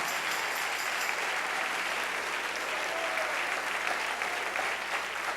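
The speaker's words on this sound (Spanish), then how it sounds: "Dale un aplauso al Rey." A church congregation claps together in sustained, even applause, heard at moderate distance across the whole stretch.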